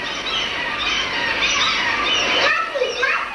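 Birds squawking close by near their chicks on a small island, with a steady stream of shrill, overlapping squeals and cries.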